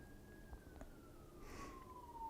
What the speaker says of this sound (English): I'm letting this ambulance noise pass away.